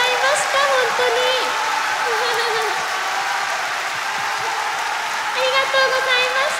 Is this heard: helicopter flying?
no